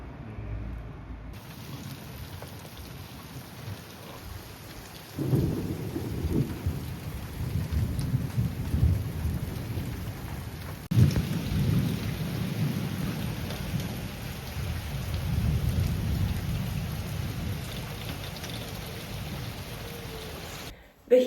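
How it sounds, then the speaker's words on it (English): Steady rain falling outdoors with rolling thunder, a continuous hiss of raindrops swelling into deep rumbles around the middle and later stretches, distant and sustained with no talk. "Definitely raining over there."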